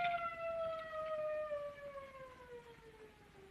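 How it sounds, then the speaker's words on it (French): A siren wails alone on a foggy night, its drawn-out tone gliding slowly downward in pitch across a few seconds, fairly clear and unbroken. "Oh, c'est horrible, ce bruit. C'est une sirène."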